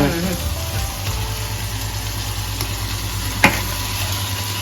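Dry potato sabzi being stirred and mixed in a frying pan, a steady soft scraping and sizzle close up, with one sharp knock of the utensil against the pan near the end.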